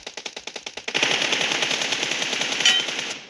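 Automatic gunfire in the shooter video game PUBG, a rapid rhythmic burst of shots that builds into a dense, sustained roar of continuous firing, loud and close with no talk.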